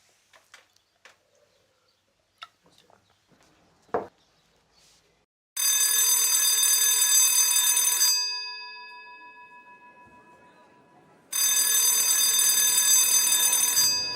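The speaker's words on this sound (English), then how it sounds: "The bells are ringing inside the Salisbury Playhouse" Electric bells ring inside the Salisbury Playhouse theatre before an opening performance: two loud, continuous metallic rings of a few seconds each, the first decaying away, preceded by faint scattered knocks and rustles.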